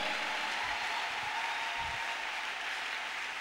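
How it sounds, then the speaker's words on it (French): A church congregation claps steadily in praise, a dense, even wash of applause filling the whole moment with no voices over it. "Nous acclamons le Seigneur."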